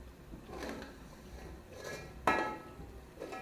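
Masala spice paste is scraped from a pot into a grinder jar while making paya, with a few metallic clinks and knocks of a spoon on steel, one sharp clang standing out.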